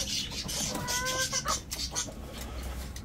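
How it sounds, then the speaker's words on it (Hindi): Chickens and roosters cluck in a busy farmyard flock as they chase after food, rapid overlapping calls and clucks close by with steady outdoor background noise. "ये देखें मुर्गों को देखें पता नहीं क्या उठा के भाग रहे हैं"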